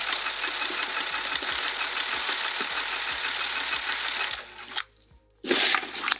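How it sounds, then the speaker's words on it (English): Sewing machine stitching around a vinyl bag, a steady close mechanical whir with rhythmic needle thumps that slows and stops, then a brief rustle of handling after a pause. "So I'm just going to start sewing around, stopping with my needle down anytime I need to remove a clip"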